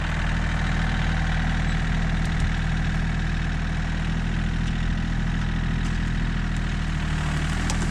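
A John Deere 770 compact tractor's diesel engine runs steadily at idle outdoors, a loud, close, continuous low rumble with no talk over it.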